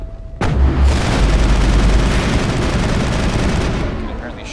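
Heavy gunfire and rocket blasts from a Mass Effect 1 battle on Feros, a dense, loud, continuous barrage that starts abruptly after a short quiet moment and roars steadily to the end.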